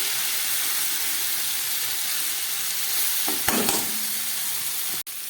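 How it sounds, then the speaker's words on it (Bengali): Vegetables sauté in hot oil for a lightly spiced fish curry. A loud, even sizzle runs through the whole clip. A brief stir and clatter come near the middle, and a sharp knock comes just before the end. "এই সবজিগুলোকে আর একটু কষাবো।"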